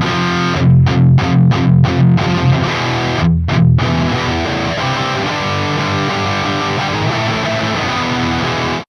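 A heavily distorted electric guitar plays through a Soldano SLO-100X amp on the bridge humbucker, with delay and reverb. Loud palm-muted chugs in a choppy rhythm open the riff, then ring into sustained, saturated chords.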